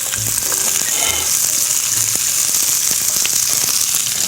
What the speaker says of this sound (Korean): 좀 전에 썰어놨던 채소 중에서 양배추하고 양파만 넣어주세요